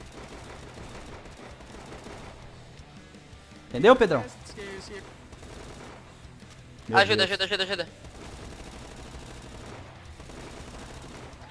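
Two bursts of rapid automatic gunfire come from a Black Ops 3 custom zombies game. Each burst lasts about a second and they are a few seconds apart. Players talk over the game sounds.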